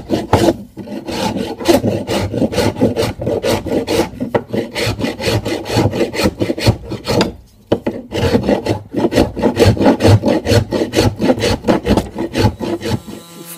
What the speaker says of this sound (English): out with the very coarse rasp now and see how we go.